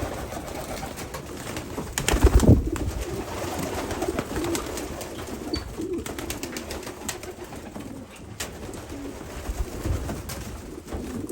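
Flight pigeons in a loft coo repeatedly with soft, rolling calls at close range, set over a busy background of rustling and shuffling, with a person speaking intermittently.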